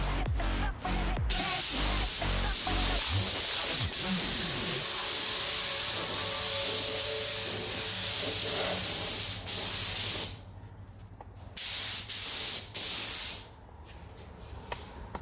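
A spray gun mists alcohol onto a car headlight being customized, giving a loud, steady hiss that runs almost continuously and then breaks into a few short bursts with brief pauses near the end.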